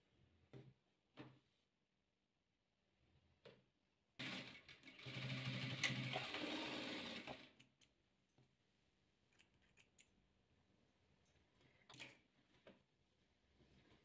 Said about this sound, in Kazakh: Енді осыны тігіп аламыз.